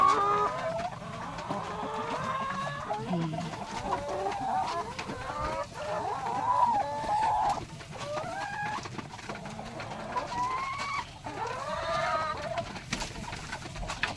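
A flock of about thirty laying hens cluck and murmur steadily, with repeated rising calls and soft coos close by, continuing throughout with no talking.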